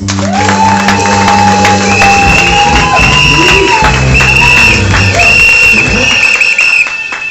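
A church congregation cheers and acclaims loudly, with many voices shouting and whooping together in a dense, sustained crowd roar up close.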